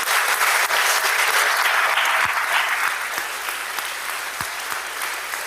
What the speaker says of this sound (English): Would you please stand and give them a rousing ovation?